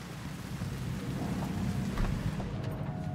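Steady rain pours in the video game Cyberpunk 2077, a dense, continuous hiss with a low rumble like distant thunder, filling the scene with no speech.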